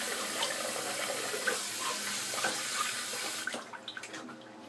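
Water runs steadily from a tap while someone rinses off after a shave, a continuous close hiss with small splashes that thins into scattered drips near the end, and no one speaking.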